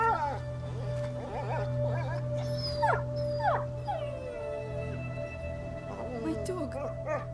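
A dog in the game A Plague Tale: Innocence whimpers and yelps in a series of high, wavering cries over a low ambient hum, with voices speaking during the cutscene.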